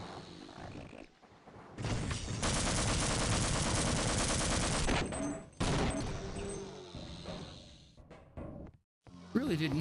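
A gun fired in a video game lets off a sustained, loud burst of rapid automatic shots lasting a few seconds, followed by shorter bursts and roaring, with a voice speaking in between.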